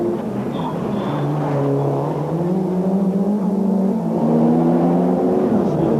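Rally cars race through a tight street stage with false chicanes during the 1993 Nacht van Achtmaal rally, engines droning and rising steadily as they accelerate, loud and continuous.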